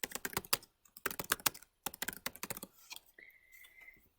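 Close, clattery keystrokes on a computer keyboard tap out a filename in a software lesson, coming in quick uneven bursts separated by short pauses. No one speaks over the typing.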